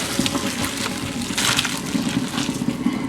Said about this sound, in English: my noodles are done, so I'm going to go ahead and take those off the stove and of course strain them in a colander